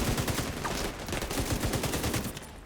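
Rapid automatic gunfire in The Division 2 shooter game, a dense stream of sharp repeated shots in a steady rattling rhythm, loud and continuous throughout before briefly easing at the end.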